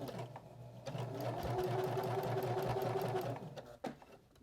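A home sewing machine stitches fabric for a small mini apron recipe holder, running in a steady fast whir for about three seconds before stopping, followed by a short click.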